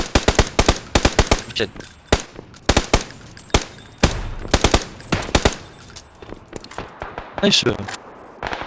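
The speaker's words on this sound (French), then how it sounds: "Ça tire derrière toi, à ta droite, gros." Rapid gunfire bursts and single shots in a squad battle royale match on the Karakin map, sharp repeated cracks in clusters throughout, with players talking over the shooting.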